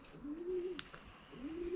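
Young pigeons settling before their first flight coo in two soft, rolling phrases, close by, with a faint chirp between them and no talking.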